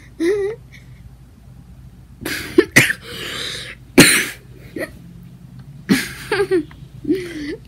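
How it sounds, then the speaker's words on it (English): A person coughs in several sharp, close bursts, with short gaps and faint whimpering sounds between them. "They're just making me cough now."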